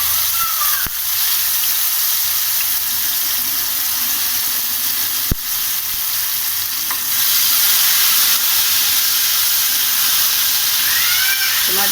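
Tomato frying in hot oil with cumin for a dal tadka, a loud continuous sizzle and hiss close up, with occasional stirring scrapes and one sharp clink of a utensil against the pan.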